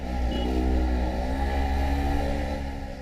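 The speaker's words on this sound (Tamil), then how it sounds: "இந்த டிராஃபிக்கு இடையில் வாகனம் நகர்ந்து செல்கையில் சில சமயம் நம்மை கடந்து சீறிக்கொண்டு செல்கின்றன சில பைக்குகள்." Motorbikes roar past amid congested Chennai traffic, a steady loud engine drone with rising revs and dense low rumble throughout, no voices.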